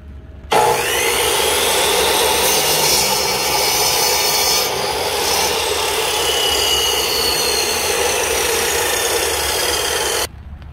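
A saw cuts through a piece of scrap wood in one long, loud, continuous pass, with a steady rasping grind that stops abruptly at the end.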